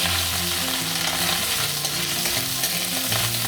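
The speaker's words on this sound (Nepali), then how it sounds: "जुनै मासु लिए पनि उसानेर सानो सानो पिस गरेर यसरी भुट्नुपर्छ" Boiled chicken pieces fry in hot oil, with a steady, close sizzle and the scrape of stirring as the meat is tossed in the pan.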